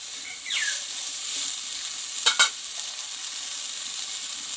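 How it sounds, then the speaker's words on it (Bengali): Pumpkin greens sauté in hot oil with a steady, fairly quiet sizzling hiss, two brief sharp clatters of a utensil against the pan near the middle, and a short squeak early on. "এই শাকটা দেওয়ার পরে আমি হালকা করে তেলে কষে নেব"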